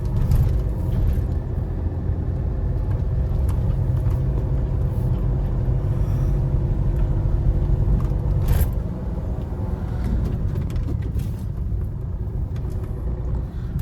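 Car driving through city traffic with rain about, a steady low engine and road rumble heard from inside the cabin, continuous and even, with faint passing-vehicle noise and a brief louder knock midway.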